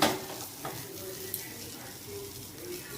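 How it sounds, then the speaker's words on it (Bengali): Pointed gourd (potol) frying in a new kadai, a low continuous sizzle with faint stirring scrapes and a light clink, heard close without talk. "এটা এখন পটলটা ভাজছি"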